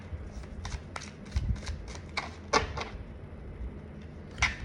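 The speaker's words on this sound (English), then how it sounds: "I'm going to shuffle for a bit" Tarot cards shuffled by hand, a series of short papery riffles and taps in uneven bursts, close and fairly clear, with a few louder snaps near the middle and end and no talking.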